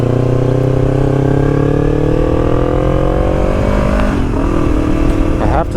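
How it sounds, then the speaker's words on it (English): A Yamaha YZF R3 twin-cylinder motorcycle with a full-system exhaust hums loud and close, its pitch climbing smoothly as it accelerates before easing off. "I will say I love this exhaust tone though. It's a good sounding exhaust."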